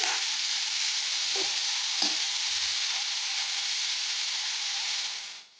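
Mixed vegetables for a crispy toast sandwich filling frying in a pan, a steady close sizzle with a few soft clinks of stirring, fading out at the end.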